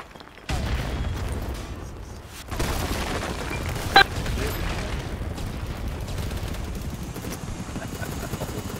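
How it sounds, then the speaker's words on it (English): A rocket launcher fires and explodes in the shooter game BattleBit during a battle for a river map point, with a loud boom rising out of continuous distant gunfire and rumbling combat noise, one sharp crack standing out midway. "let me use my rocket."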